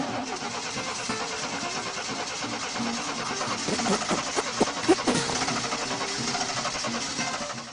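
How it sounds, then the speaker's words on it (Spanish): A car engine sputters and falters near Poza Rica, a steady rough mechanical roar with a few uneven surges and knocks, fairly close and without voices. "Casi llegando a Poza Rica, el coche comenzó a fallar."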